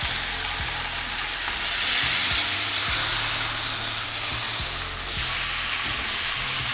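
Chicken Al Faham, a Middle Eastern grilled chicken, sizzles steadily on a grill as it is turned, with a loud continuous frying hiss and periodic low clicks and scrapes. No one speaks over it.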